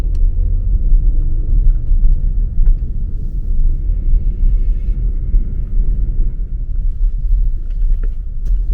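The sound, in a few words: car driving through a small town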